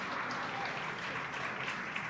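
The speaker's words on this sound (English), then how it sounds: "An eruption of applause here at SpaceX Mission Control" A crowd at SpaceX Mission Control bursts into sustained applause after a booster's first landing, dense clapping and cheering filling the room evenly without pause.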